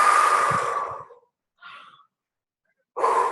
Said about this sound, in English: Yawning is great.